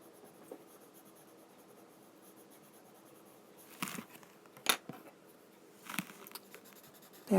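A colored pencil shades paper during adult coloring of a fish background, giving a faint, steady scratchy rasp with a few louder, sharper strokes near the end.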